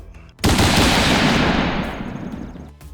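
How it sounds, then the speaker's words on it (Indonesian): Gunfire during pistol shooting practice at targets five and ten meters away: one sudden loud, close blast that rolls into a long, roaring decay lasting over two seconds, with no talking. "Dan saat ini mereka latihan menembak sasaran 5 dan 10 meter."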